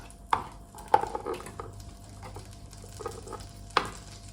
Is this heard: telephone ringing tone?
no